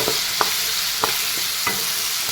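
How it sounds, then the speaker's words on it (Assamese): Green peas frying in a pan while a fish curry with peas and tomato is made: a continuous loud sizzle with a few scraping stirs, heard close up and alone. "মটৰকেইটা এয়া মই অলপ টাইম ভাজিলোঁ"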